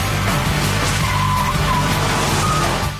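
A Vauxhall VXR8 brakes hard and turns in on a race track, a loud, close, continuous engine roar with tyre squeal running through it.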